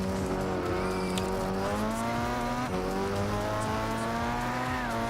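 A 1997 Super GT race car in Gran Turismo 6, run in the Super GT 500 Championship, drones loudly with a continuous high-revving engine note that dips briefly at a gear change before climbing again.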